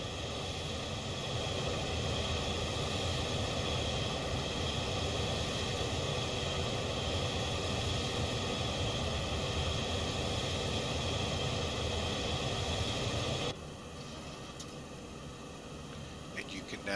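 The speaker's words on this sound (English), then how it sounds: "I'm going to go ahead and turn up the engine noise just a little." Engine noise from a Boeing 727-200 Advanced in the X-Plane 11 simulator, cruising between Cairns and Alice Springs in Australia: a loud, steady broadband roar that cuts to a quieter hum near the end.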